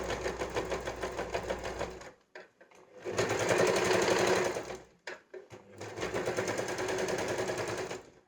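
A sewing machine stitches a boat neck blouse in steady bursts: a close, loud, rapid whirring run of about two seconds, a short pause, a longer run of about a second and a half, a pause, then a final run.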